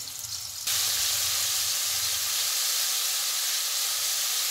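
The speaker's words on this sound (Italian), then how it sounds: "facciamo soffriggere il peperoncino col peperone e l'aglio" Chili, bell pepper and garlic hit hot oil in a pan for Thai pad kra pao and set off a sudden loud sizzle that keeps up as a steady, bright hiss with no talk.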